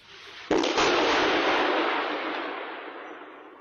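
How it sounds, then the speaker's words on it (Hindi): An explosion in an Israeli residential area in news footage, a sudden loud blast that rolls into a long roaring rumble fading slowly over several seconds. "रिहायशी इलाकों में बीच में विस्फोट से दहशत हो गई है।"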